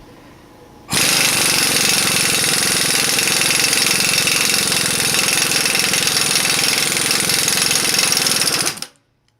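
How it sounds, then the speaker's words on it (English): A half-inch impact wrench with a 12-point socket hammers at a rusted nut on a Dana 80 rear differential. The loud, continuous rapid rattling runs for about eight seconds, then cuts off abruptly. "Didn't think that a 1/2 inch impact was going to work, but it sure has been."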